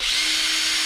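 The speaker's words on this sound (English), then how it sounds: "choke the drill, pull the starter rope" Drill-driven engine tool running steadily, a loud continuous whine held at one level throughout, close by with no talking.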